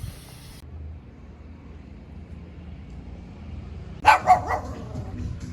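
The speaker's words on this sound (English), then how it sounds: "those dogs have been barking at me the whole time." Dogs in the countryside bark in a quick burst of several sharp yaps near the end, after a long stretch of quiet low ambient rumble.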